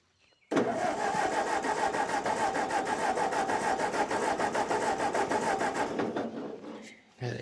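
Old tractor engine cranking over: a rapid rhythmic chugging starter churn that begins abruptly and stays loud and even for about six seconds, then fades out without catching and running.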